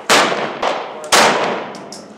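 A .38 Special round fired through a 12 gauge shotgun chamber adapter: two sharp, loud close-range reports about a second apart, each followed by a brief ringing decay and echo.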